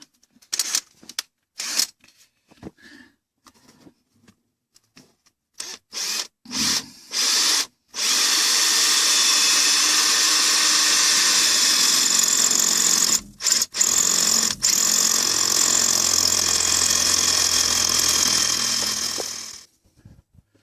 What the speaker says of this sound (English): We have to drill down the middle of it.